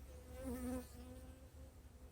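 A bee swarm buzzes inside a hive box, a faint, steady droning hum with tonal layers that swells briefly near the start and then settles, with no one talking.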